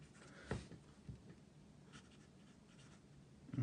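Pelikan M200 fountain pen with a medium nib writing on absorbent paper, giving soft, close scratchy strokes with a few light taps of the nib, fairly quiet and heard alone.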